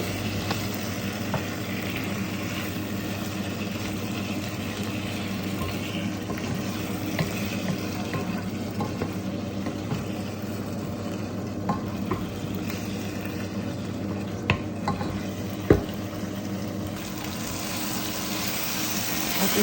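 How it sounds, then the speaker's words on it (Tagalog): Fish biryani stirred gently in a pan, a steady low sizzle with soft scraping strokes, fairly close and continuous with no talking. "Ihalo natin. Dahan-dahan kasi masira ang isda."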